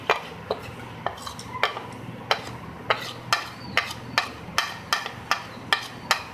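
A spoon stirring spice masala of coriander powder, salt and red chili powder in a metal pot for chicken achar gosht, giving steady, evenly spaced clinks and scrapes, close and clear with no talk.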